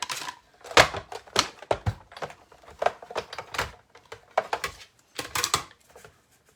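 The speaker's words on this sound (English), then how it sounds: "let's just grab our die cutting machine here" A die cutting machine working a card gift card holder gives bursts of sharp, close clicks and clattering taps in an irregular rhythm, with brief pauses between runs and no voices.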